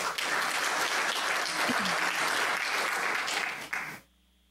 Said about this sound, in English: You applause at every answer we give.